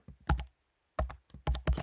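Keys clatter on a computer keyboard while text goes into a prompt field, with a quick burst of keystrokes, a short pause, then several more crisp, close taps.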